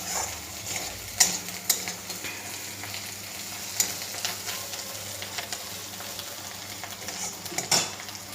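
Onions frying in a pan for a small puti fish chachchari, a steady close sizzle with occasional sharp clinks and scrapes of a spoon stirring against the pan.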